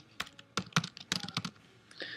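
Close, quiet typing on a computer keyboard: a short burst of irregular key clicks, ending with a light rustle.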